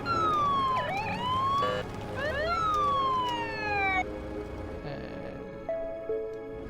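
An ambulance siren in the video game Everything wails loudly in repeated rising and falling sweeps, layered over a steady background hum, before it drops away to quieter tones near the end.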